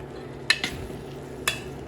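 Pots and dishes are scrubbed and washed by hand in a home kitchen, with a few sharp metallic clinks and clatters close by over a low, steady background hum.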